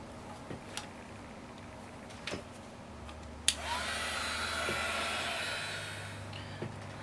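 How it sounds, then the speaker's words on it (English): A heat embossing tool clicks on and blows a steady, loud hiss for about three seconds while melting gold embossing powder on a congratulations card sentiment. The hiss then cuts off, with a few faint taps before and after. "We're going to take the heat tool and emboss that."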